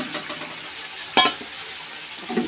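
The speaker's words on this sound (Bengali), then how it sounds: "বেগুনটা দিয়ে দিলাম" Pieces of eggplant go into a pan with garlic, giving a steady soft sizzle under a sharp metallic clink of a spoon against the pan and a second stir near the end.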